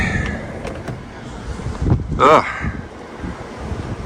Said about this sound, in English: Frozen, windy, cold.